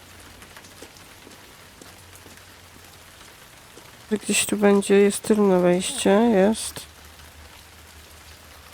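Steady rain falls throughout a rainy night scene in the video game Heavy Rain, with someone speaking over it in the second half.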